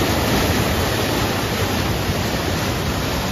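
The flooded Ulhas River rushes beneath a bridge in a loud, unbroken roar of churning water, dense and close, with no pauses or voices.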